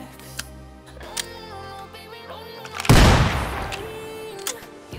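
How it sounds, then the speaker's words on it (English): A sawed-off double-barrel shotgun in a Gmod Call of Duty WW2 weapon pack, with metallic reload clicks and shell handling, then one loud close blast with a decaying tail and more mechanical clicks. "The double-barrel shotgun sawed-off."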